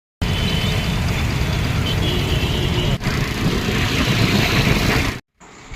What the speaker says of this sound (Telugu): ట్రాఫిక్ జామ్ అయిపోయింది